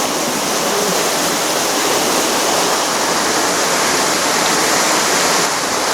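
Creek water rushing steadily at Wild Dog Falls in the Otways, a dense, even wash of broadband roar with no pauses, close and loud throughout.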